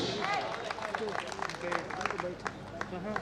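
At a Hindi poetry gathering (kavi sammelan) in Beohari, a crowd applauds a poet with scattered, crisp hand claps mixed with lively crowd voices and calls that sit on top of the clapping.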